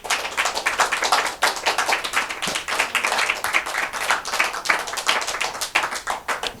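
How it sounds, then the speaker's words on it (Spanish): Congregation applauding the Lord in a church service, a dense, steady burst of many hands clapping close by, sustained throughout with sharp individual claps standing out. "Dale un aplauso al Señor si es tu deseo"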